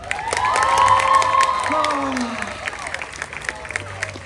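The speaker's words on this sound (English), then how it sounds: "You guys can clap for him if you'd like" A crowd at a Disney California Adventure live show breaks into cheering, whoops and applause, loud at first and then thinning into scattered claps, with a brief spoken exclamation over it.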